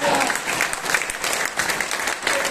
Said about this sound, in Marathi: आणि तबलजीत करता टाळ्या व्हायला पाहिजे